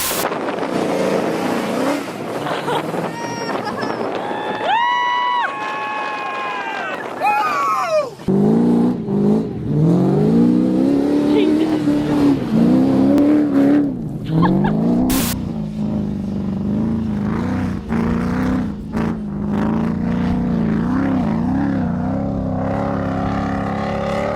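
An LS V8-swapped Nissan 240SX prerunner drives hard, its engine loud and revving up and down through rising and falling pitches, with wind buffeting across the mic and a brief bump partway through.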